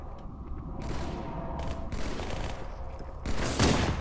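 Rapid gunfire from dual-wielded pistols in Halo 2 rattles through dense game combat noise, with a louder burst near the end.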